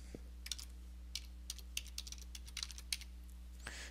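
Keys clack in quick irregular bursts on a computer keyboard as an email address is typed in a quiet room with a faint steady hum.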